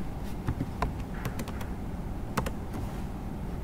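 Typing on a computer keyboard while entering an SQL query with a WHERE condition on salary, a quiet run of irregular key taps with a few sharper strokes, close and without talk.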